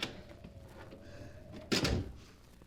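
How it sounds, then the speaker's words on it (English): A door being opened in an old-time radio drama: a faint creak and handling, then a solid thunk near the end, close and alone without speech. "Here's a door. If it's only unlocked."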